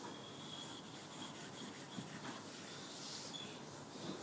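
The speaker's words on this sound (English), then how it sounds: "You just use your fingers, rub it in." Fingers rubbing and blending a drawing, with a soft, continuous scuffing and rubbing texture that is faint and steady, heard alone without talking.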